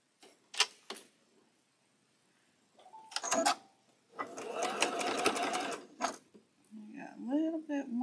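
A sewing machine pieces a quilt block in rows: a couple of sharp clicks, a short burst of stitching, then a sustained close run of rapid stitching, with a voice speaking near the end.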